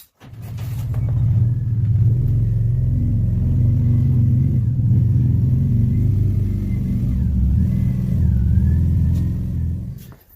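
A Subaru Forester rolls in close by with a steady low rumble and some mild revving, swelling after a sharp start and holding level for about ten seconds before cutting off abruptly.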